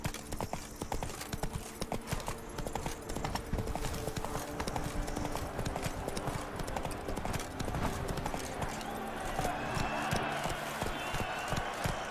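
Horse hooves clip-clop at a steady gallop in the open-world game The Witcher 3, a continuous rhythmic pounding with a game music bed and faint ambient sound underneath throughout.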